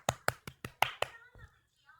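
A handful of sharp hand claps, about six in a steady rhythm, close and fairly quiet, followed by a brief faint voice.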